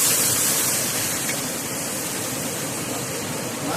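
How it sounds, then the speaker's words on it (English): A pot of ginger miso broth comes to a boil, giving a steady, dense, bubbling hiss that stays loud and even throughout with no talking. "Make sure this will boil nicely."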